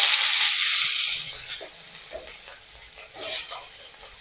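Chopped onions hit a hot pan while cooking a capsicum fry, giving a loud hiss that fades into a steady sizzle, with a couple of stirring scrapes and a second burst of sizzling near the end.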